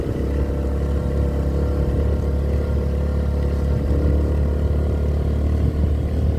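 Steady, loud engine drone of motor traffic on a local road, motorcycles and other vehicles rumbling past continuously without pause and with no talk.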